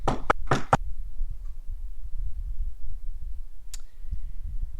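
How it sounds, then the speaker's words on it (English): Two or three quick, sharp knocks on a door, close and distinct, followed by quiet room tone and a faint single click later. "A few seconds later, a knock at the door."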